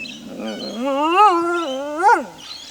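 A wild dingo in an Australian meadow gives a single long, wavering howl that rises and falls and swells near the end. The howl is close and loud, with no voices.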